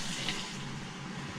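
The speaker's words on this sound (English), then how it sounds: "Okay, so it's pumping that water." A boat's bilge pump pushes fresh tap water out of the bilge, a brief steady rushing gush of moderate loudness heard on its own.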